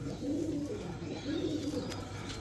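Pigeons cooing, a soft repeated low coo in short rhythmic phrases, near and fairly quiet, with no talking.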